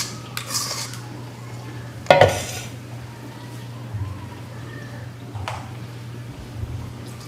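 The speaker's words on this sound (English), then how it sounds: "So I'm raking the dough off onto the dough cloth." Biscuit dough is scraped off a kitchen counter onto a dough cloth, giving soft scuffing and a few light clatters of a utensil, with one sharper knock near the middle over a steady low hum.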